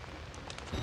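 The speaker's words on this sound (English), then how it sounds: "It's pitch black, it's raining." Steady rain falls in the horror video game Outlast, a dense hiss of drops on surfaces heard close and continuous through a dark night scene, with a low rumble near the end.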